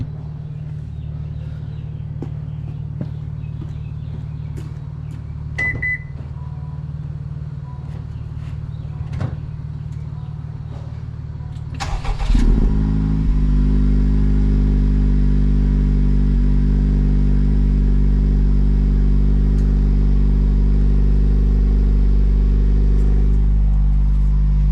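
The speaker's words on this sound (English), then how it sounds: "It's the final regular fucking stock exhaust cold start." A 2025 Honda Civic Type R with its stock exhaust cold-starts: quiet ambient hum and a few clicks, then the starter catches and the engine fires into a loud, steady, deep high idle that holds close by.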